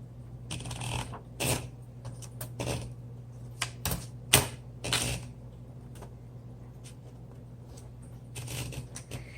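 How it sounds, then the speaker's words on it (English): A 1970s Smith Corona Coronet Super 12 manual typewriter clacking away up close, keystrokes landing in irregular bursts with short pauses between, over a steady low hum. "let's go ahead and put a paper in, and let's do a typing demonstration"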